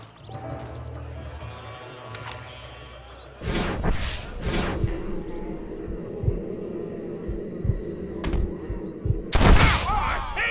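Gunfire in the Western video game Red Dead Redemption on PS5: a few heavy gunshot bursts and thuds over a steady low hum, with a loud final blast near the end.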